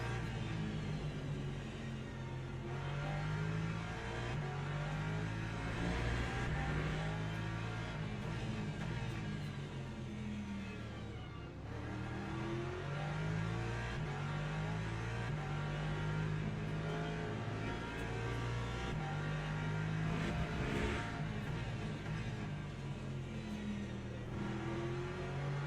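LMP2 prototype race cars sweep past at Interlagos in the Le Mans Ultimate sim, with loud, layered engine drones that rise and fall in pitch as cars approach and pass, continuous over the whole stretch.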